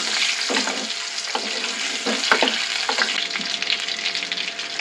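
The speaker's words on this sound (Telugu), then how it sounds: "ఇప్పుడు మనం ఆల్రెడీ ఉడికించి ఉంచుకున్నటువంటి బంగాళాదుంపల్ని అందులో వేస్తున్నాను. దీంతో మనం కాస్త కదుపుకుంటూ డీప్ ఫ్రై చేసుకోవాలి." Boiled potatoes deep fry in hot oil for a potato masala curry, a steady close sizzle and crackle with occasional scrapes of stirring.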